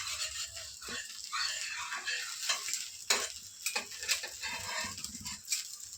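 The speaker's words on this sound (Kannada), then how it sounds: "ದೋಸೆ ಎಲ್ಲ ಚೆನ್ನಾಗಿ ಫ್ರೈ ಆಗೈತೆ ನೋಡಿ." Rava dosa fries on a hot pan, giving a steady close sizzle broken by scraping and clicking as it is turned over.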